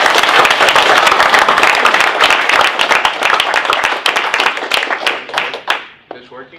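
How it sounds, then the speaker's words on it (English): A crowd's round of applause for a guest at a talk, dense and loud, clapping steadily for several seconds before thinning out into a few scattered claps at the end. "Nice round of applause for Ray McGovern."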